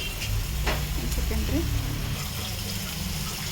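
Food sizzles and fries steadily in a pan while a North Karnataka kaalu palya is cooked, a continuous close crackling hiss with light stirring.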